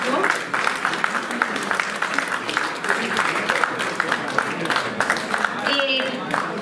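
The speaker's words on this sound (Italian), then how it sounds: "Quindi un applauso a tutti loro, è doveroso." Audience applause at an awards ceremony for student volunteers from associations, a dense, steady wash of clapping throughout with voices mixed in and talk rising near the end.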